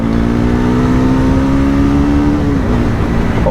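A Bajaj Pulsar NS400Z motorcycle with a changed air filter rides at night, its engine droning loudly and steadily at close range, the pitch holding and then dropping slightly toward the end.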